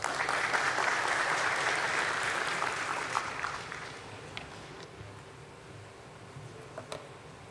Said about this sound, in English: Let's welcome him with a round of applause.